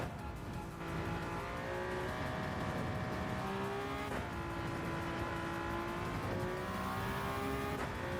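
Race car engines in Gran Turismo 7 at Monza, including a Bugatti, roar continuously with rising and shifting revs and gear changes, loud and close, with occasional tire squeal and no talk.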